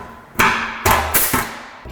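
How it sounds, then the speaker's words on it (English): A small hand hole punch tool popping holes in a steel wing panel during a Mk1 Ford Escort restoration, three or four sharp close metallic snaps spaced about half a second apart. "just goes, pops a little hole in there"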